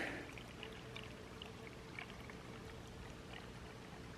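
A mountain stream runs toward a lake on a stormy monsoon backpacking trail, making a steady, close, broadband rushing and gurgling that continues without a break.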